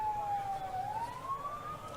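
An ambulance siren sounds near a hospital in Gaza as the vehicle arrives, a single steady wailing tone that dips and then rises slowly, fairly faint and distant over low background rumble.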